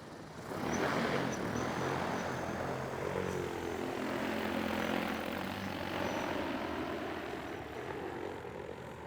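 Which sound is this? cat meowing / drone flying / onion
drone flying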